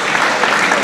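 A crowd applauds at an amateur boxing event, a brief, loud, dense wash of clapping with no pauses.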